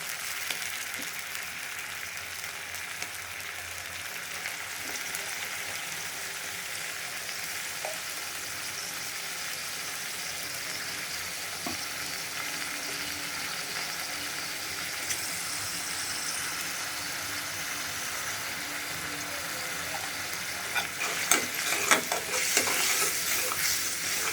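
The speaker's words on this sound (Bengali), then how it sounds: "মশলাটা ভালো করে কষায়া পরে পেটি দিব।" Ginger, garlic and spices fry in hot oil as they are stirred, a steady close sizzle with soft scraping that turns into a burst of louder clatter near the end; no talking.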